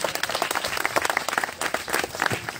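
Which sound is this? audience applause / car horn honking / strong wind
audience applause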